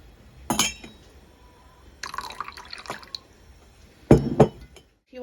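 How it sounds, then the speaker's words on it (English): Hot homemade pineapple squash poured into glass jars one at a time, with short bursts of liquid splashing and trickling against glass and faint clinks in between, close and fairly quiet with no talking. "I'm just going to fill each jar one at a time so it doesn't cool down too much."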